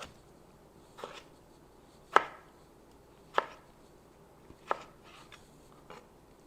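A knife chopping tomato on a cutting board for kiwi salsa, five or six distinct, evenly spaced thuds with quiet pauses between, close and clear with no talking.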